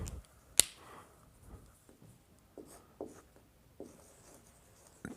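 A marker squeaks and scratches across a whiteboard in short separate strokes, with one sharp tap near the start, close and fairly quiet, with no talking.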